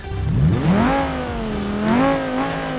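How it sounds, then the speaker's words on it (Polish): An unmuffled car engine revs up and down in two rising swells, a loud raw buzzing roar that climbs in pitch, then settles before revving again. "bez tłumika to to auto robi, myślę, dość ciekawy dźwięk"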